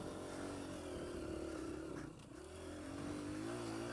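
A Honda CRF150F dirt bike engine labors up a hill in low gear, a steady droning hum with a brief dip in revs midway before pulling again, heard from close by without speech.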